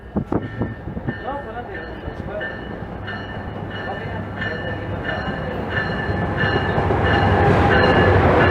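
A New Jersey Transit commuter train rolls through Newark's Union station in the evening, rumbling and clattering louder as it draws nearer over several seconds, with a voice talking faintly under the rail noise.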